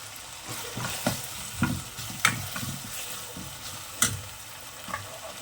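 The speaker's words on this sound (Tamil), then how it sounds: "ஆனியனும் டொமேட்டோவும் அப்படியே நல்லா ஒரு கிரேவி பதத்துக்கு வர அளவுக்கு வதக்கிக்கணும்." Onion and tomato sautéing with curry leaves in a pan for Chettinad crab gravy, a steady close sizzle broken by irregular scraping stirs and a few sharp spatula knocks.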